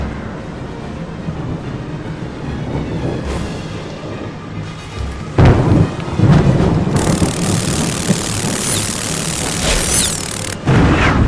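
Stormy weather with rumbling thunder and heavy rain builds as a dense, continuous roar, swelling into louder crashes midway, with no talking.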